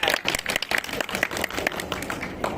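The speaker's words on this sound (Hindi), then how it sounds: "देख लो तुम्हारे दोस्त ने पहले ताली बजाई थी।" Students applaud during an online coding class, a burst of quick, scattered hand claps rippling steadily across a couple of seconds, fairly close and busy, with no speech over it.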